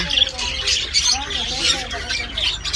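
Parrots squawk in shrill, repeated bursts close by at an animal rescue centre, with people talking underneath.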